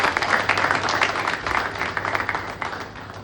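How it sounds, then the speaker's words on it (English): Audience applause at a live business talk session, a dense wash of many hands clapping that stays steady for about three seconds and then tapers slightly, with no speech over it. "can we have a big round of applause for all the wonderful entrepreneurs who do this?"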